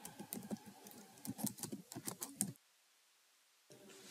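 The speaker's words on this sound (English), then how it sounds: "Now to sign up for Steemit, you can type in the search bar of our browser," Computer keyboard typing into a browser search bar, a quick run of close, uneven key clicks that stops dead, a pause of near silence, then faint room noise.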